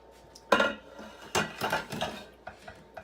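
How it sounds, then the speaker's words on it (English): A spoon scrapes and clinks around a pot of Greek chicken soup with rice, giving a few distinct knocks and stirring swishes at close range with no talking. "Let's give it a stir."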